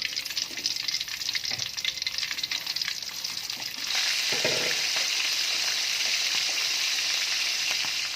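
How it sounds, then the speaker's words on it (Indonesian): Salted fish fries in a pan over medium heat, a soft crackle with occasional clinks that swells into a loud, steady sizzle partway through. "Menu selanjutnya kita akan menggoreng ikan asin."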